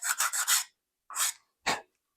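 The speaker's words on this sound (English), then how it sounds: "I have provided in the kit a nail file of which we can smooth out" A nail file rasps across a small piece of balsa wood in a short burst of quick back-and-forth strokes, then two separate single strokes follow after brief pauses, close and fairly quiet.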